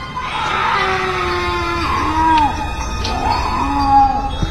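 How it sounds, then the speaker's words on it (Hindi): Screaming and wailing voices fill a hospital in a horror-story sound effect, with long, drawn-out moaning cries that rise and fall over a dense, loud background. "तभी हॉस्पिटल के अंदर से चीखने चिल्लाने की आवाज आने लगती है।"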